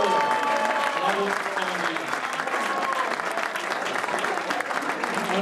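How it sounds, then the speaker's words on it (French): A crowd at a ski carving and Nordic ski competition for blind and visually impaired athletes claps steadily and densely throughout, a full continuous wash of applause with voices mixed in. "On les applaudit."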